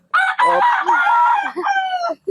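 A Boston rooster in a backyard in San Ildefonso, Bulacan crows loudly and close, one long strained call broken into a few sustained segments with short gaps.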